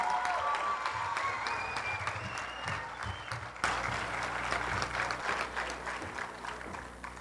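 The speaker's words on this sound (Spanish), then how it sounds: "¡Fuerte los aplausos!" Applause from a crowd at a university graduation ceremony, a dense, steady wash of clapping that holds for several seconds, heard from within the audience.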